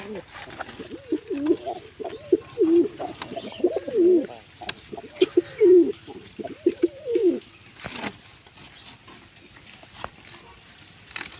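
White pigeons coo in soft, repeated throaty phrases, close by and moderately quiet. The cooing clusters in the first seven seconds, then gives way to faint handling noise.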